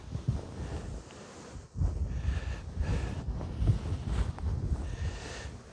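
Honey bees buzzing around an opened hive during a late-season colony check, a continuous low droning hum with wind rustle and handling noises, fairly close to the microphone.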